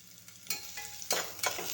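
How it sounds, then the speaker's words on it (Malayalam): Chopped onion sautés in hot ghee inside a pressure cooker for rice, with a soft sizzle under a few quiet scraping stirs. "ഒരു സവാള അരിഞ്ഞതും ചേർത്ത് വഴറ്റാം"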